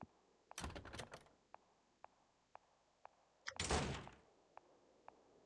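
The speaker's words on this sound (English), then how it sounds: "I'm just slamming them doors really fucking loud." Heavy doors slam hard and loud in a dark video game, two big bursts of banging among a steady run of sharp single knocks and clicks.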